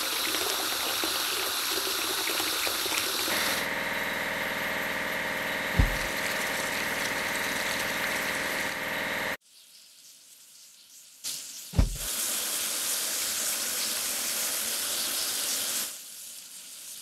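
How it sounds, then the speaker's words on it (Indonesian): In a video game, the steady hissing spray of a pressure washer cleans a grader over a low engine hum, with a brief thump partway through and a short drop to quiet before the spraying resumes. "Ayo cuci grader ini."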